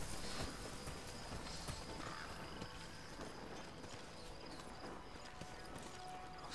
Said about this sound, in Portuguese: O cavalo tá lá.